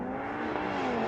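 Mercedes-AMG A45 and BMW accelerating off the line in a drag race, a brief loud engine whine climbing steadily in pitch, close and continuous.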